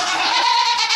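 A goat bleats loudly and close by during breeding season on a small farm, one sustained wavering cry lasting the whole moment, with no talk.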